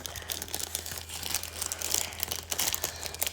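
Steady, close-up crinkling of a thin plastic bag from a Kuromi unboxing, rustling continuously with sharp crackly bursts throughout, no voices.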